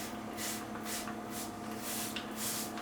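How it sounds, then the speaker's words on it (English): KRUD Kutter cleaner is sprayed onto Singer 319K sewing machine feet in five short, soft hissing bursts spaced about half a second apart, faint and close. "so I'll start with just spraying it on the pieces like that."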